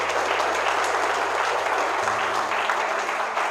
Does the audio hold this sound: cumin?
no